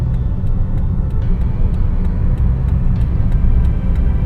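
Steady low engine rumble and road noise fill the cabin of a Honda Jazz VTEC GD3 while driving, constant and moderately loud with no talking.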